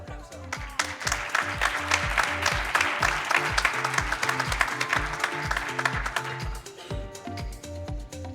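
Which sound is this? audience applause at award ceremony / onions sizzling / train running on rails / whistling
audience applause at award ceremony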